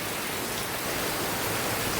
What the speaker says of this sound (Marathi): या 2 तासात बरोच असं मोठं पाऊस लागलेला.